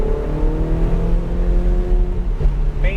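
A Ferrari or Porsche sports car is on a race track in Texas, its engine droning loud and close with falling and rising pitch as the driver lifts and gets back on the throttle.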